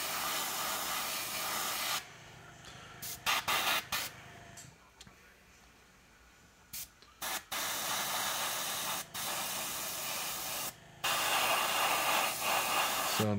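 Airbrush spraying a paint wash onto miniature Mortarion wings, a close steady hiss in long bursts broken by short pauses and clicks of the trigger.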